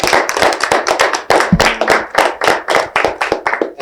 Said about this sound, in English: I want to give a big round of applause to yourselves real quick.